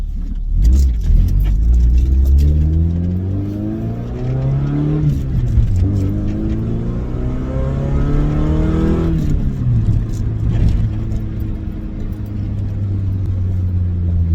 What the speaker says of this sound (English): She's a little loud, but I've got to get the exhaust fixed.